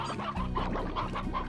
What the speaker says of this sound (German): Hey, hier ist nochmal ein Gockel dazu gekommen.